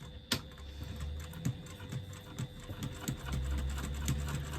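Sewing machine top stitching along the edge of a clutch bag's slip pocket, a faint, quick ticking and whirring with small clicks and soft thumps, close by and steady.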